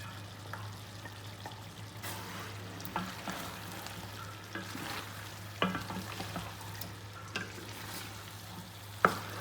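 A spoon stirs boiled, half-cooked carrots into mixed vegetables in a pan. Soft scraping and sizzling continue under a steady low hum, with a few sharper clinks of utensil on metal. No one speaks.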